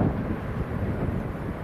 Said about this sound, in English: Says the wind is currently gusting to 36 knots.